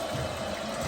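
Hot water pours steadily into a container for mixing goat kid milk replacer, a close, continuous splashing stream that runs without pause through the short moment.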